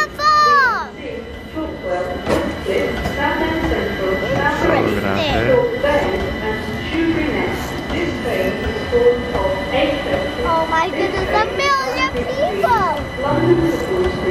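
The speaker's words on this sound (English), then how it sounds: "this is Great Anglia. Great Anglia Line." A Greater Anglia overground train runs through London, its steady rumble and rail noise continuing throughout with some wheel squeal, while people talk nearby and children can be heard in the background.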